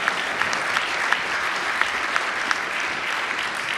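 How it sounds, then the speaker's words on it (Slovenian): A hall audience at a Slovenian Armed Forces athlete-of-the-year ceremony claps in a dense, sustained ovation. A few sharper individual claps stand out now and then. "Še en aplavz za umetniški vtis"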